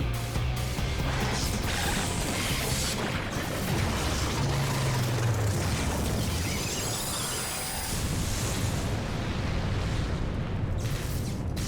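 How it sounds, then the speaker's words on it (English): A loud, sustained explosion in the video game Final Fantasy XIV, a continuous rumbling roar with crashing debris and magical effects that fills the whole stretch before easing near the end. "We have to look away from the explosion, of course."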